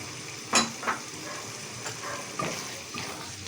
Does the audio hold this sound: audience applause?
no